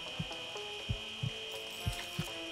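Cutting or sawing in the surgery video game Surgeon Simulator: faint, low, irregular strokes, about five in under three seconds, over a steady high-pitched tone and soft background sounds.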